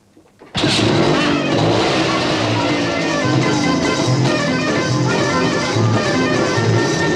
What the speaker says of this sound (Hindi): हमारा मोटर बाइक शुरू हो जाएगा